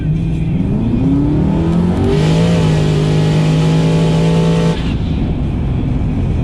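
A Saleen car's engine revs hard and pulls from a 40 mph roll, rising through the gears as a loud, continuous roar close to the microphone, then easing off near the end.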